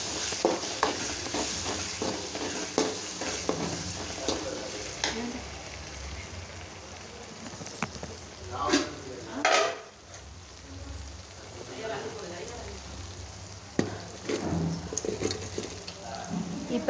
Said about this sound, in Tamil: இது எல்லாத்தையும் நல்லா இப்போ நம்ம வதக்கி எடுத்துக்கலாம்.